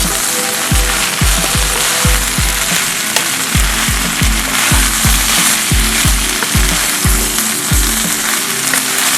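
Chilli mushroom pieces frying on a high flame in a pan, loud continuous sizzle with a steady run of rhythmic knocks from stirring or tossing, close and without talk.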